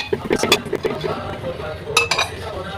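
Plates and cutlery clink in a home kitchen as dinner is dished onto another plate, with a few sharp, close chimes and soft scrapes and low household sounds in between.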